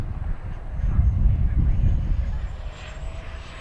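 An FMS Avanti V3 70mm RC ducted-fan jet flies past, its low rushing roar swelling and then fading as it peels away, with a faint turbine whine above.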